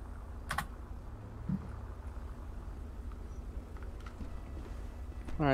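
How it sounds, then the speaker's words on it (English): Soft, continuous clicking of typing on a computer keyboard during a FiveM police patrol roleplay, faint under a steady background hum with a few brief louder noises. "Excuse me, I was typing, you asshole."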